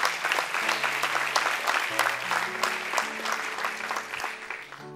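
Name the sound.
church congregation applause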